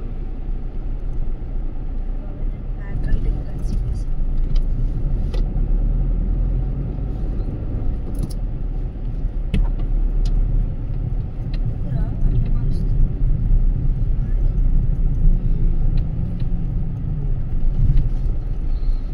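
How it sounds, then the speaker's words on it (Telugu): Steady roar of cars passing on a highway near Hayathnagar on the Vijayawada route, a continuous loud traffic rumble lasting throughout with no clear breaks. "అన్ని కార్లు కదా"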